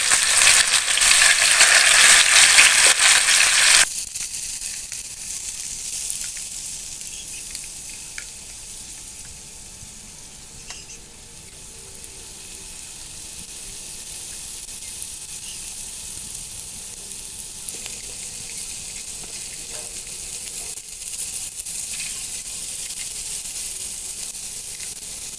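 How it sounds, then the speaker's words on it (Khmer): Pork spare ribs fry in hot oil in a wok over a low flame, giving a steady close sizzle. It starts loud and bright, then settles into a quieter crackle, with no talk. "ឥឡូវខ្ញុំដាក់ ប្រេងឆាចូលខ្ទះហើយឥឡូវក្តៅហើយឥឡូវយើងដាក់ចៀនឆ្អឹងជំនីតែម្ដង"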